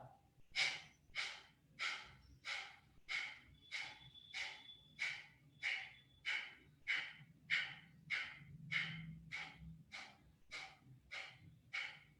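Rhythmic deep breathing exercise rounds, about twenty steady forceful breaths in an even pulse, close and fairly quiet with no talk.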